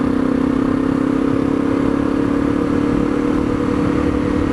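A Honda CRF250L dual-sport motorcycle being ridden on a sunny day: a loud, steady engine drone with constant wind rush and no change in pitch, heard close up.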